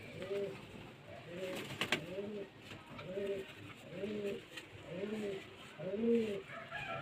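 Close beauty pigeon coos in a steady rhythm, about seven rounded, bubbling phrases evenly spaced, with a faint background hiss and a few brief clicks.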